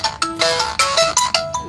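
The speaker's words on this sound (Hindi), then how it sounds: "ये जो डिब्बी है ख़राब हो गई है, इसके लिए थोड़ी सी फटी फटी आवाज आ रही है।" A Mi Note 5 phone plays its ringtone through a faulty, damaged ringer speaker, giving a loud, harsh, crackly and distorted repeating melody that fills the space with no voices over it.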